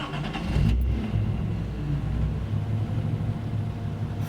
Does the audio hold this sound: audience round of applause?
no